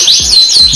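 A Rasmi canary chirps in quick, high, sweeping whistles, several bright rising-and-falling notes in a short burst, close and loud, with faint low rumbles underneath.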